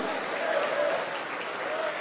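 A church congregation applauding at a worship service, a dense continuous wash of clapping from many hands with a voice over it.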